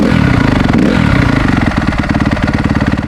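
A 2015 fuel-injected dirt bike engine runs loud and close with a rapid, even, throbbing idle rhythm that holds steady throughout, with no talking.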